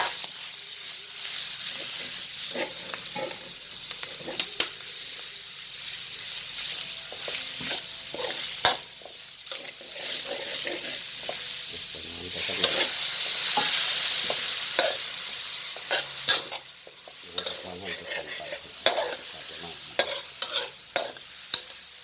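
Steady frying sizzle of pork belly with curry paste, with frequent stirring clatter and scraping, close and fairly loud, with brief sharp clinks throughout and no talking.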